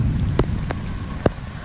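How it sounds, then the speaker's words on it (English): Heavy tropical storm rain falls in a steady, dense wash, with a few sharp drips or drop hits standing out against the constant hiss. "lots and lots of rain."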